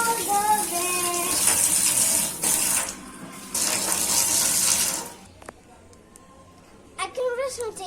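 Tap water runs steadily into a sink during handwashing, a broad continuous rush that stops partway through, followed by quieter moments and a brief bit of talk near the end.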